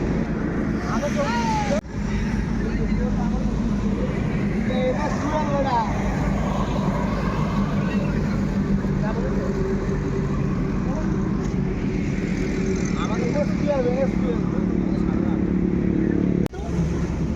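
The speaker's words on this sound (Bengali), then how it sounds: "রাস্তাটা দেখো কতটা বিজি রাস্তা" Busy industrial road at night near a roadside dhaba, a continuous wash of passing cars and motorbikes with engine drone and occasional revving, fairly loud and close.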